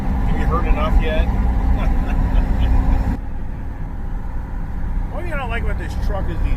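A pickup truck rolls along the road with loud, constant tire drone and engine rumble under ongoing conversation inside the cab, the roar continuing steadily throughout.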